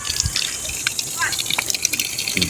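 Water gushes through household pipes and out of a faucet after the valve on a bladder pressure tank is opened, a steady hissing rush with a few spurts, mid-distance, while people talk faintly in the background.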